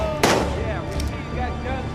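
Gunfire in the post-apocalyptic game Days Gone: one sharp, loud shot bursts out early, then fainter follow-up reports under shouting voices.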